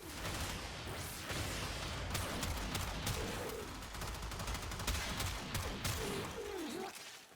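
Rapid shotgun blasts from the AkBronco dual pistol-shotguns in the Warframe video game, a loud continuous barrage of overlapping shots running the whole length, mixed with chirpy game effects.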